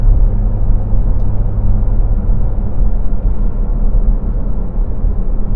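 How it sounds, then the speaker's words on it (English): Engine induction noise from a 2023 Porsche 718 Cayman GT4 RS fills the cabin while driving, a steady, loud low rumble with a constant drone and road noise and no sharp changes in pitch. "you definitely get that induction noise right behind you"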